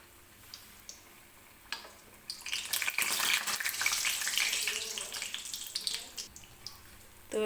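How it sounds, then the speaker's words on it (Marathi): Three batter-dipped kat vadas sizzle in hot oil in a kadhai, a brief few pops swelling into a loud, close hissing fry that gradually settles back to soft crackling. "आपल्याला हे वडे तळून घ्यायचे आहेत"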